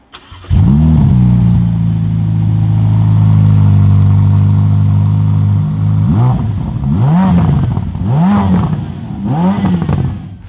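A stock Ferrari F8 Spider engine cranks and catches, holds a loud steady idle, then revs in four or five sharp blips. It is close and very loud, with no talk.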